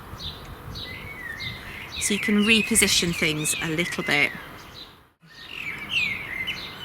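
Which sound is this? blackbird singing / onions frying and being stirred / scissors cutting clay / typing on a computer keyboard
blackbird singing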